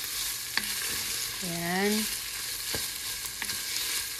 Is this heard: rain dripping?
no